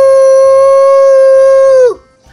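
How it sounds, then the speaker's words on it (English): A gray wolf gives one long, loud, steady howl held close up, its pitch bending downward and fading out at the end, with no talk over it. "Howl!"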